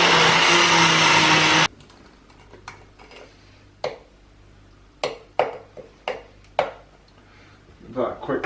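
A blender whirs loudly for under two seconds while blending mango liqueur made with vodka, then cuts off, followed by scattered clinks and taps of the jar and lid.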